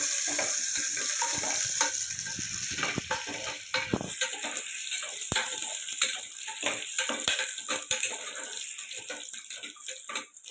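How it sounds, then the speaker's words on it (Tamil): Cashews and raisins fry in hot ghee with a steady, bubbling sizzle, and scattered clicks come from stirring in the pan. "முந்திரியை முந்திரி கிரேப்ஸை நெய்யில் போட்டு நல்லா வதக்கி எடுக்கலாம்"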